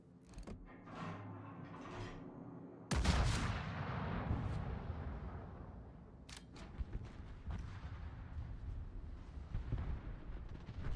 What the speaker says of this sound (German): Das war jetzt die erste Salve, die etwas geknallt hat.